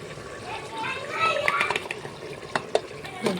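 Masoor dal is stirred into cooking keema, giving soft wet scraping and light sizzle with a few sharper clicks of the spoon against the pan, while a voice talks over it.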